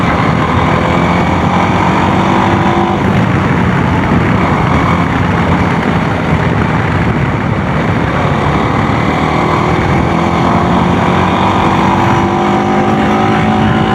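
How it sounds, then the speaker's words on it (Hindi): A TVS Apache RTX 300 motorcycle rides over a rough dirt road, giving a steady, loud engine drone with broadband wind and road rumble that run continuously throughout, with no talking. "जैसे कि अभी कच्चा पेच से जा रहा हूँ, बट बाइक पूरा स्टेबल है"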